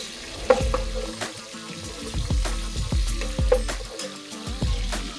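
Whole spices, including nigella seeds and whole dried red chillies, sizzle and crackle in hot oil, with steady frying hiss and a few sharper pops and stirring scrapes close by.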